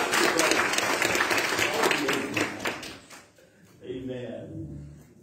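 A burst of applause from a church congregation for about three seconds, then it fades as a voice begins talking.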